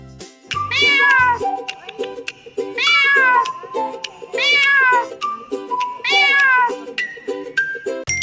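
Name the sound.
cat meowing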